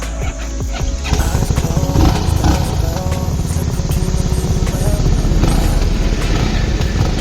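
A motorcycle rides along a road in the rain, its engine droning loud and steady throughout, mixed with broadband road and wind noise.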